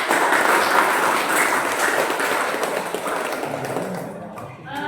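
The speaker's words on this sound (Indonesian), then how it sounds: "Berikan tepuk tangan." A crowd claps steadily for several seconds, a dense, continuous patter of applause that tapers slightly near the end.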